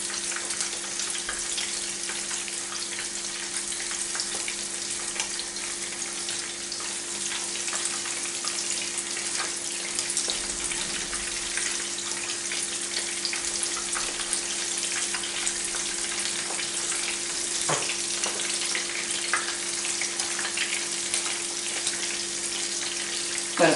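Steady, close sizzling and crackling of anchovies frying in hot oil, continuous and bright, with occasional faint clinks underneath and no talking.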